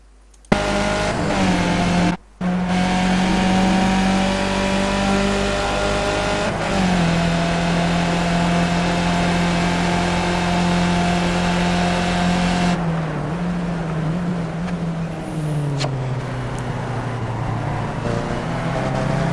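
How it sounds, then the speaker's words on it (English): Race car engine in iRacing, a Skip Barber car at Phillip Island, loud and sustained with steady whine and pitch shifts, a brief cut near the start and a crash-like break in tone partway through, no talking. "let's show up the accident that Matt has had in his first lap"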